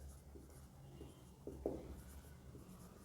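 Pen on paper in a maths lesson gives faint, brief scratching strokes, a few short marks spaced out over quiet room tone.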